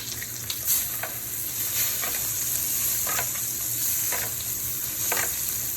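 Wagyu beef steak frying with garlic outdoors: a bright, continuous sizzle with periodic scraping stirs, close and steady, no voices.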